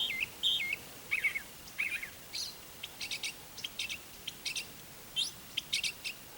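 Bird chirps and quick whistled tweets come in short bursts, close and clear, with brief pauses between the calls.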